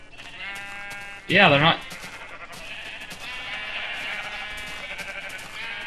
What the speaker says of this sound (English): I spawned 300 sheep in one area.